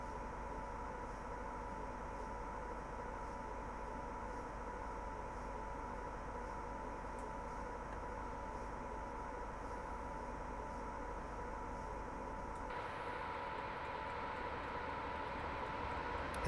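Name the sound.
Class 87 electric train arriving at station, Train Simulator video game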